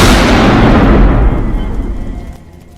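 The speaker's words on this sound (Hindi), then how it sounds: "पटाखों की आवाज यहाँ तक आई है" A loud burst of explosive crackling and booming fills the start, then slowly decays into a fading rumble, like firecrackers going off at a distance.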